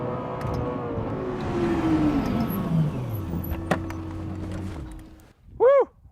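A Lexus LFA sports car engine screams on a racetrack, its pitch sweeping downward as it roars past and fades, followed by a brief sharp tonal chirp at the end.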